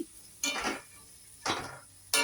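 Spice masala for potato curry (aloo dum) being stirred and fried in a pan, with three distinct scraping stir strokes, each a broad rasping burst of spatula against metal over a faint background sizzle.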